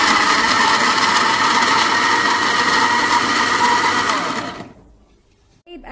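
An electric blender whirs loudly and steadily as it mixes strawberries and sugar into juice, then stops abruptly and fades to near silence, followed by a brief clunk.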